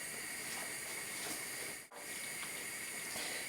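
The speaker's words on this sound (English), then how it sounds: "Now it's starting to boil or bubble a little bit more violently." Cheese pasta sauce boiling in a pan, a soft continuous hissing bubble with a brief dip partway through, faint and steady with no talk.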